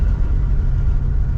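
A 1957 Chevy engine runs steadily while driving, a close, loud low rumble holding even throughout with no clear gear change.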